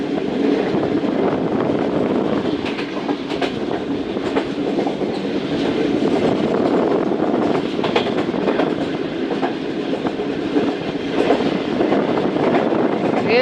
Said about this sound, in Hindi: एक अदद कोल ट्रेन भी पावर प्लांट में जा रही है